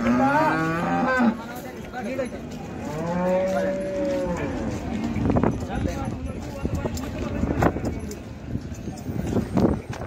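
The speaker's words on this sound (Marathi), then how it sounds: "चांगली गाय शिंगाला बारीक जातीची गाय" Khillar cattle moo loudly several times amid a busy crowd at a cattle market in Sangola, with people talking and hooves clopping in the background.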